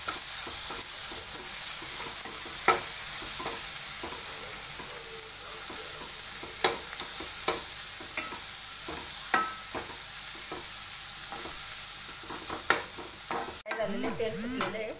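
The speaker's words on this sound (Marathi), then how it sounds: "मिक्स करून घेतो।" Spices for paneer bhurji are stirred in an oiled frying pan, giving a continuous sizzle broken by repeated sharp scrapes and clinks of a spoon against the pan, fairly quiet and close.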